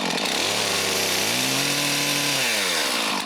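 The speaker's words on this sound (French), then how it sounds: "ma nouvelle scie à chaîne, là, est pas vraiment faite pour ça" A new chainsaw, heavy and not really suited to the job, revs loudly and steadily while cutting up a tree that broke in two over the winter, its engine pitch rising and falling across the cut with no voices.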